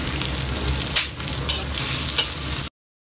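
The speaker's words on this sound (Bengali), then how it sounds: "পেঁয়াজটা ট্রান্সলুসেন্ট হওয়া পর্যন্ত ভাজতে হবে" Chopped onions fry in oil with whole spices for a dried fish curry, giving a loud, steady sizzle close by. A few sharp stirring scrapes punctuate it before the sound cuts off abruptly.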